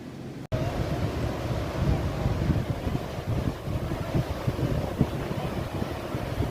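Sea waves washing onto a shore make a steady, close, low roar with rolling surges, mixed with wind buffeting the microphone; no talking.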